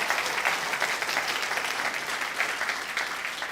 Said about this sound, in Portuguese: dê um aplauso forte de louvor ao teu Deus